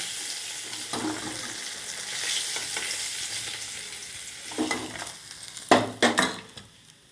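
Steady crackling sizzle of rohu-type pona fish frying in hot oil, with a few louder bursts and clatters near the end as pieces are moved.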